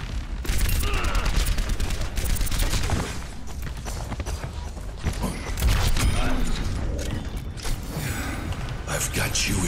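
Gunfire in the video game Overwatch, dense rapid bursts of shots with mechanical clatter and booms over steady game noise, loud and continuous throughout, with brief voice lines mixed in.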